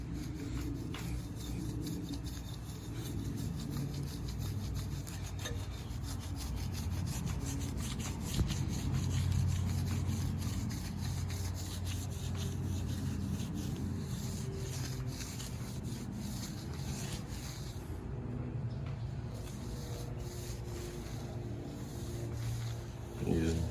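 Polish being wiped and buffed off the paint of a Toyota Camry: a continuous close rubbing and swishing sound over a steady low hum.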